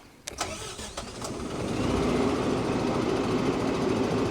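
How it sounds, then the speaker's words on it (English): A remote-controlled toy truck starts up with a few quick clicks, then its motor spins up and settles into a steady, loud mechanical whine, alone with no talk. "So let's try to activate the truck over here. I just have to start it up."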